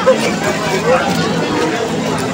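Dense crowd babble from many people chattering at once in a busy, packed outdoor spot near flooded, brown water, a steady mid-level hubbub throughout with no single voice standing out.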